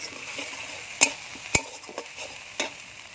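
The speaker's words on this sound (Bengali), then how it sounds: "এরকম মশলাটা ভালো করে কষানো হয়ে গেছে" Spice masala with turmeric for a vegetarian cauliflower curry sizzles softly in a pan, a faint steady fry under a few distinct metallic clinks and scrapes of a spoon stirring, no talking.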